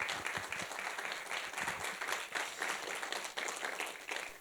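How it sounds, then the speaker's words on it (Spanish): An audience at a cultural event in San Pedro Tlaquepaque, Mexico, breaks into a brief burst of applause, many hands clapping at a steady, moderate level somewhat away from the microphone. "Un aplauso, por favor."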